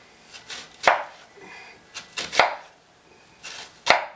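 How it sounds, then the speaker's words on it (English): A knife chops through an onion on a cutting board in a home kitchen, striking in a handful of crisp, close, irregular knocks with quieter slicing between, heard alone. "chop your onion"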